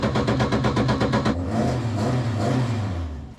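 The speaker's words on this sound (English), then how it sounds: "when I fire the car up" A Ford Mk1 Escort cranks with a rapid rhythmic chug from the starter, then catches and fires into a running engine that revs briefly and settles, close and loud.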